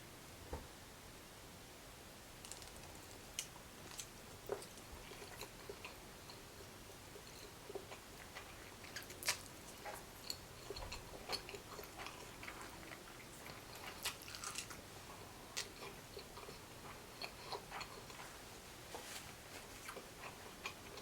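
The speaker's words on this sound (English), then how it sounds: "let's go ahead and eat" Close-up eating of Samyang spicy noodles with boiled eggs and bacon, mukbang style: soft chewing and smacking with scattered sharp ticks and clicks of mouth and utensils, steady and quiet throughout with no talk.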